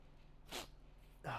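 A single sharp sneeze bursts out close by in a quiet room, followed about a second later by a second short burst of breath or voice.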